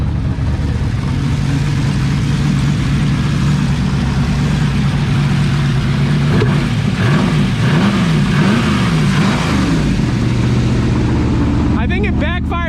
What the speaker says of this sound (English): Just a couple more revs and I think we're good.